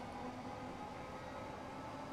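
An electric Class 465/9 train runs in Train Sim World 3, giving a steady low rumble with a faint tonal hum that stays even and continuous throughout.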